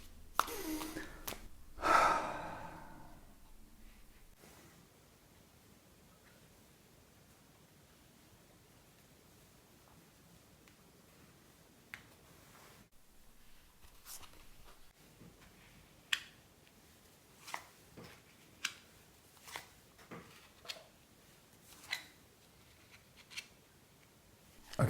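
Tarot cards being shuffled by hand, heard as a soft papery rustle followed by a run of sharp, evenly spaced card flicks and snaps, close and quiet with no talking.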